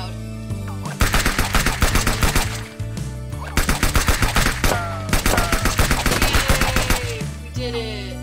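Loud gunfire in a video game, fast repeated bursts of shots with brief pauses between volleys, close and dominant with no talk over it.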